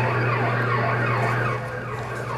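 A siren on a mini police car used in a Utah drunk-driving campaign wails loudly in repeated rising and falling sweeps close by, with no voices.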